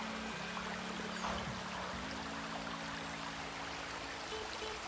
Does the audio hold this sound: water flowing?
yes